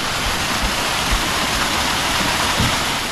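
Water rushes steadily through a small channel in a village fishing spot, a loud, dense and unbroken splashing wash with occasional low thumps and no speech.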